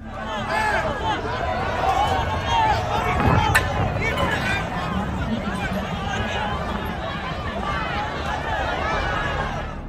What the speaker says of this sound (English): The crowd shouts and distracts the soldiers from the other members of the group